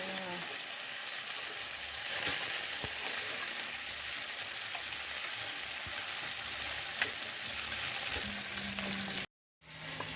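Blue swimmer crab meat sizzles and fries steadily in a pan for a village-style oyster sauce dish, a continuous close crackle with occasional stirring clicks and a brief cut near the end.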